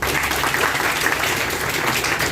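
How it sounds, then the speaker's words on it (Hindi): An audience claps loudly and steadily at a computer training certificate ceremony, with dense, even applause that carries on without a break from start to finish. "उसके लिए जोरदार ताली।"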